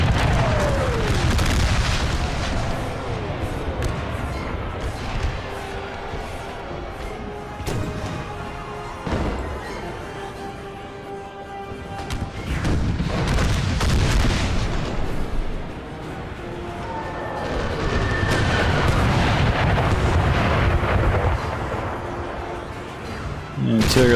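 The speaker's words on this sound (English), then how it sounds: "Artillery landing way too short." Artillery shells from an American Civil War battle game land in several heavy booming impacts spread across the stretch, with rumbling low thuds rising and fading between bursts, under steady spoken commentary.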